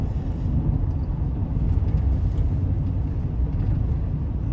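GMC Sierra 2500HD with L96 engine cruising at night, a deep steady engine rumble with road noise heard from inside the cab, continuous and fairly loud.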